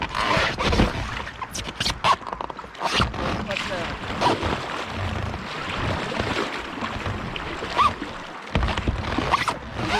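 A raft is paddled forward on a cold river with ice along its banks. Close, irregular paddle strokes splash and slosh water under steady wind noise, with a few sharper splashes standing out.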